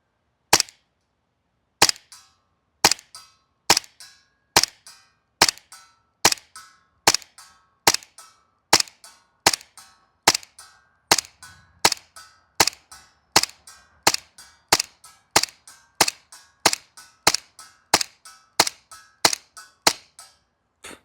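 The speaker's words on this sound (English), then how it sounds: "I want to try and see how many shots out of a full mag we can make contact with" A Modify Tyrant airsoft rifle fires a full magazine one shot at a time: about twenty-five sharp, loud cracks at a steady, unhurried pace, each followed by a faint tick of impact, with no talking.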